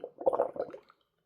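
Bubbles are blown into a water container for watercolor painting, giving a short, soft gurgling burst of a few bubbly pops that fades out within a second.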